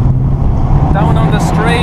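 A 2016 Honda Civic Type R FK2 on the Mondello Park circuit, its engine droning loudly and steadily from inside the car as it drops to second gear, with wind noise and a voice speaking over it.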